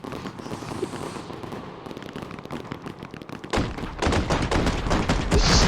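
Fireworks in the video game Fireworks Mania crackle and bang in rapid volleys, quieter at first and then building to a dense, loud barrage of explosions near the end.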